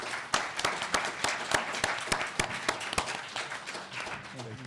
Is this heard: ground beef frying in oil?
no